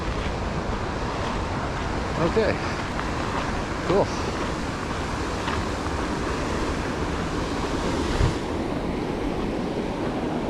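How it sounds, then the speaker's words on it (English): A river runs beside a trail in Bell's Canyon, a loud, continuous rushing roar mixed with wind buffeting the microphone, with a brief spoken remark partway through. "water, I hear water"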